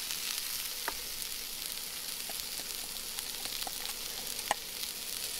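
Courgettes fry in a pan with a steady, broad sizzle that holds evenly throughout, broken by a few faint clicks and taps of stirring.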